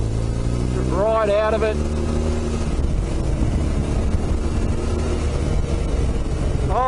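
A 2008 BMW R1200 GS Adventure motorcycle engine drones loudly under heavy wind rush during a ride, revs sweeping up and dropping as it shifts down a gear, with a rider speaking briefly over it.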